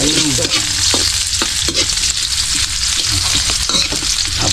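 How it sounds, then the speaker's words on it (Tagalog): Food sautéing in a hot pan, a loud continuous sizzle with scattered stirring scrapes and clinks throughout. "Gigisa na tayo, gigisa na."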